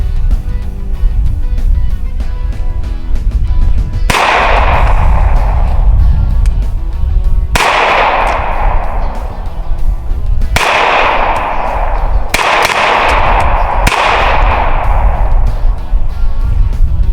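A Chiappa 1911-22 pistol fires at a shooting range, with five sharp, loud reports spaced irregularly a few seconds apart over a constant background rumble.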